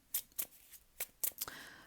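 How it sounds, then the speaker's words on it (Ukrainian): A tarot card deck is shuffled by hand, giving a handful of quick, soft riffling and slapping bursts at close range with quiet gaps between them, no speech. "я налаштовую тасую колоду"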